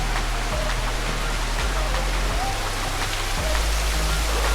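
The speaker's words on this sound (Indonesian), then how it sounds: "Di sini ada satu Apa? air terjun mini ya." A small waterfall beside a mountain trail on Gunung Butik gives off a steady, close rush of falling water that fills the whole short stretch without a break.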